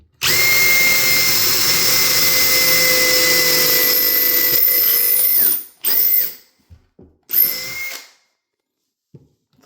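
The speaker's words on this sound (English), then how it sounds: "Let's drill all the way through now." A power drill bores through a wooden door handle jig, running loud and steady for about six seconds, then a few short bursts before stopping, with no talking.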